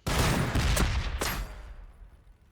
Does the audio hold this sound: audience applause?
no